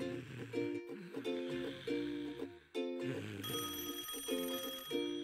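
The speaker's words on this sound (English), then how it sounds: "You have a phone call." A cartoon telephone rings with a repeating electronic bell tone in steady pulses, loud and close, playing over background music.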